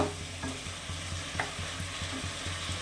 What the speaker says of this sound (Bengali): এবারে মশলাটা এই মাংসের সঙ্গে ভাজা ভাজা করব